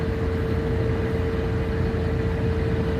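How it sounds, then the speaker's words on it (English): Road noise inside a van driving with holes in the floor, a loud, steady broadband roar with a constant low hum running underneath, unbroken for the whole stretch. "it's noisy. A lot of road noise."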